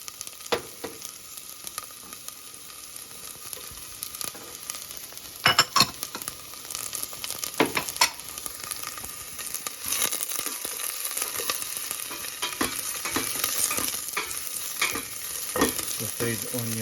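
Onions and garlic sauté in a pan for mongo with shrimp, a continuous close sizzle punctuated by repeated clatters and scrapes of a spoon stirring, no speech.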